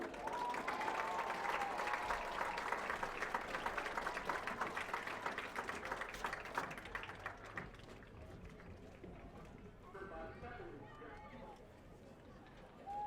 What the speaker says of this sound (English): If we could give them all a nice round of applause.